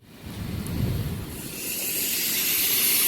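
Water sprays across an air-conditioning unit, rinsing off chemical coil cleaner, as a steady loud hiss that swells and brightens as the spray hits, with no voices.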